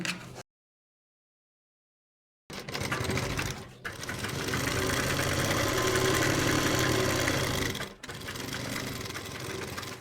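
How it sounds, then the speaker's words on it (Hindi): A sewing machine runs steadily along a salwar leg seam, loud and close, for most of the stretch. It starts after a short silence and has a brief dip partway through. "तो हमने यहाँ से पैर की सिलाई लगानी है।"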